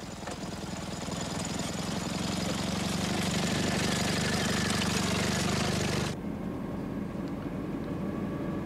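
A motorcycle with a sidecar carrying a large strapped-on load runs loud and steady, a continuous engine drone that cuts off abruptly, leaving a quieter low rumble.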